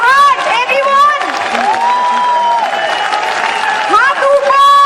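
An audience at a corporate wellness company event breaks into loud, sustained applause and cheering, while an announcer's amplified voice rises over the clapping throughout.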